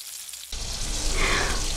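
Fish with scored backs laid into a hot frying pan, bursting into a loud, steady sizzle after a brief quiet start, close and continuous with no talking.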